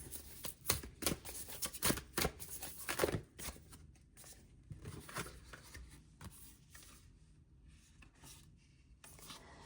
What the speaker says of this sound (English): I had to finish the shuffle